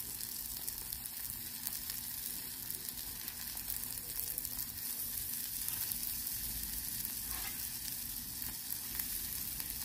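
Tortellini sizzle and fry on a Blackstone griddle while being stirred, a close, steady crackling sizzle with faint scraping, carrying on without pause and with no talking.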